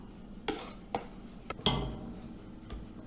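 Flour is mixed into chocolate cake batter in a bowl: a few scattered utensil clinks and taps against the bowl over soft stirring, close and fairly quiet, with no talking.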